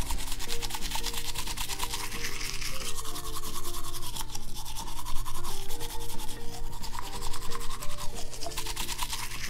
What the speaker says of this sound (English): Chase, I'm going to start by brushing your teeth